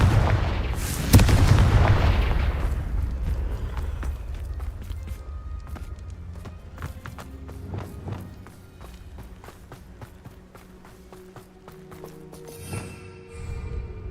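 A Confringo blasting curse in Hogwarts Legacy goes off as a loud, booming explosion near the start, followed by a long tail of rumbling, crackling debris and scattered thuds, with footsteps running.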